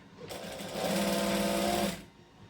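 A sewing machine stitches along a shirt edge while sewing a Burda 6840 shirt, running in one steady, loud whirring burst of about two seconds, then stopping, with no talking over it.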